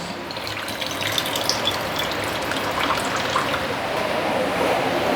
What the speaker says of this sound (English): Let me remove the water first.